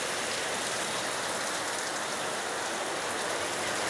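Steady, dense rain falls without a break in a rainy spell lasting weeks, a continuous close hiss of drops drumming on surfaces with no voices and no lulls.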